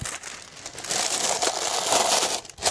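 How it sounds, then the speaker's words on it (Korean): Crinkly plastic rustling as a plastic bag is opened at a semi-automatic mushroom-kit bagging machine, close up and fairly loud, continuing steadily for a few seconds with no talking. "이렇게 비닐봉지를 벌려서"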